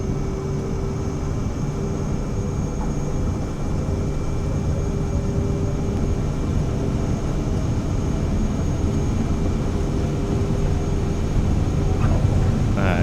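Airliner engines spool to takeoff thrust in Microsoft Flight Simulator 2024, a steady, loud, dense roar with a faint tonal whine that holds evenly throughout and swells slightly toward the end.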